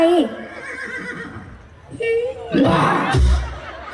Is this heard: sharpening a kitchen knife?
no